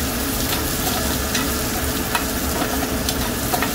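Mushrooms fry over a half flame in a pan, giving a steady close sizzle and crackle with occasional stirring scrapes for a mushroom pyaza curry.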